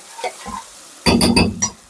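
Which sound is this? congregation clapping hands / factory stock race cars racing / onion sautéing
onion sautéing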